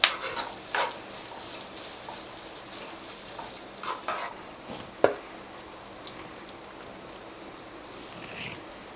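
Dry fruits and raisins sizzling softly in a pan while making dry fruit laddu, with faint stirring scrapes and a few sharp utensil clinks against the pan; quiet and close, no talking.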